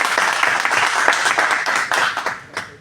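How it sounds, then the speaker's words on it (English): An audience at a talk on happiness and confidence bursts into loud, close applause, with dense clapping that thins out toward the end. "A big round of applause."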